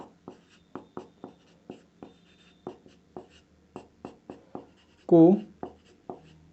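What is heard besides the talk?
writing a definition on a board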